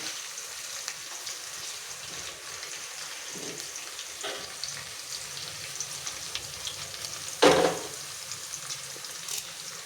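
Tomatoes and onions frying in a curry pan, giving a soft, steady sizzle with faint stirring clatter and one brief louder scrape near the end.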